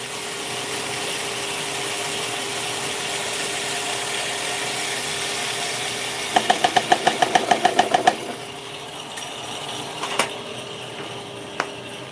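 A Kaleido coffee roaster runs an automatic roast profile, a steady mechanical hum and whir throughout, with a burst of rapid clicking or beeping midway and a few isolated sharp ticks afterward, no talking.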